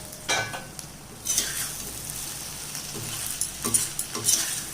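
Brinjal curry (kathirikkai poriyal) stirred in a frying pan after being uncovered, with a few soft scraping strokes and faint sizzling, close and quiet, no voices.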